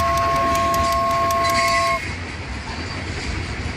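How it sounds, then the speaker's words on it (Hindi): A toy train rolls along its track in a cartoon-style toy play scene, giving a steady mechanical running noise with a sustained whistle-like horn tone for the first two seconds, then continuing more quietly alone. "ये ट्रेन तो इसको खींचते हुए लेके जा रही है"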